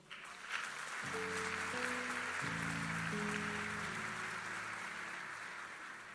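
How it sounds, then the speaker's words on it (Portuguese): A church congregation claps softly and continuously while sustained keyboard chords play underneath, the applause faint and steady from start to finish. "Pode aplaudir o Senhor?"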